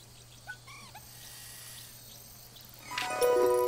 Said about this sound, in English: a common moorhen